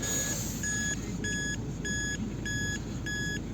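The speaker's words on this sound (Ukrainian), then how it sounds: "Аж пищить, аж свариться, там норма перевищує собі кількість раз." A handheld measuring device beeping its alarm inside a 2012 VW Touran 2.0 TDI, six evenly spaced short electronic beeps over a steady low cabin hum.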